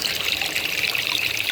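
Water runs steadily through a backyard gold sluice, a continuous bright trickling and rushing wash with no pauses, close and fairly loud, with no voices.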